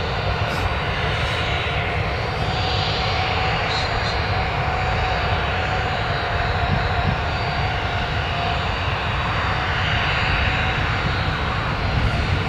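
Ryanair aircraft engines roar steadily at Newcastle Airport, a loud, continuous broadband rumble and whine that stays constant throughout.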